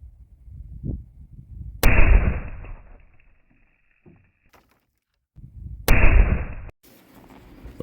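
Two loud, sharp rifle shots from a 7.62x54 firing surplus ammunition into a bag of dirt, each a sudden crack followed by a ringing tail, with quieter handling noise before each shot.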